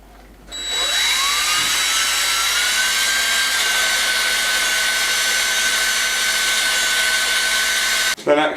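A power drill whines at a steady high pitch for several seconds while drilling into wood, spinning up at the start and cutting off abruptly at the end.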